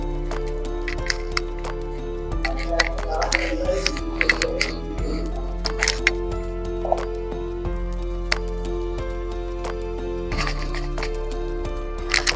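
Radish paratha filling being mixed by hand, giving soft wet squishing and dripping sounds with scattered clicks, close and steady over a constant low hum for about twelve seconds, no talking.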